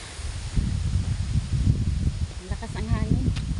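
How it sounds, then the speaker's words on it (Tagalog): Strong outdoor wind buffets the microphone with a steady low rumble and rustling for the whole stretch, and a voice briefly breaks through near the end. "Lakas ang hangin."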